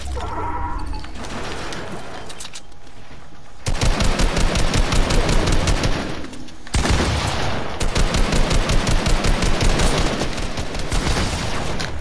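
Rapid automatic gunfire rattles in long bursts during a Fortnite match, loud and close, broken by a brief pause before another extended volley resumes.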